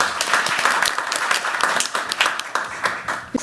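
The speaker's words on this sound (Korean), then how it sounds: "박수 한번 해주세요." Audience applauding at a National Assembly ESG talk concert in Korea, steady dense clapping from a crowd filling the whole stretch without a break.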